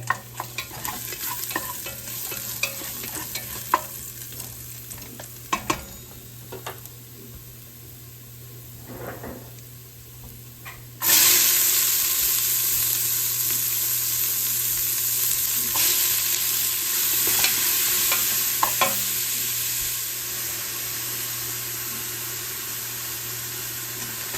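Onions for lamb chili hitting a hot pan, quiet clinks and stirring at first, then a sudden loud sustained sizzle that carries on steadily to the end with occasional stirring scrapes.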